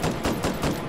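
Weapon fire in slow fire mode in the VR game Hot Dogs, Horseshoes & Hand Grenades, a steady run of about five loud shots evenly spaced in quick succession.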